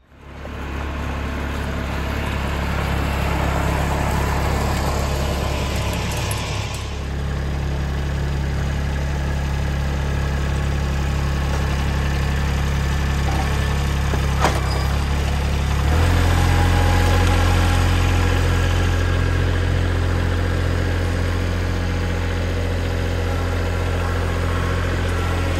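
A tractor engine idles loudly and close for a long stretch, a constant low drone with a steady vibration that shifts pitch slightly partway through, no talking.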